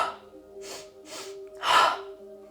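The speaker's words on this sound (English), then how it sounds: "shorter inhales through the nose and then exhale through the mouth" Yoga breathing: two short, quick sniffing inhales through the nose, then a longer, louder exhale through the mouth, heard up close with faint background hum and no talk.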